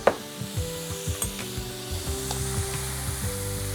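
Calamari frying in a pan gets a stir, with a steady sizzle and a few light scraping knocks of the utensil near the start, close and moderately quiet.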